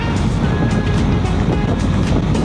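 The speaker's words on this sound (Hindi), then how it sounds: "बाइक भाग रही है एकदम बढ़िया स्पीड पे" Honda NX 500 motorcycle with E-Clutch riding at speed, a steady loud broadband roar of engine and rushing wind without a break, with no talking.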